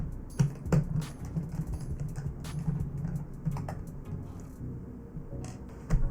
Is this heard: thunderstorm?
no